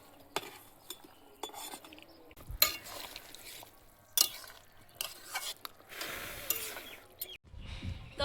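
Fish fried in a pan for a Bengali home-cooked curry, a low sizzle under scattered clinks and scrapes of a utensil stirring against the pan, with louder clattering bursts.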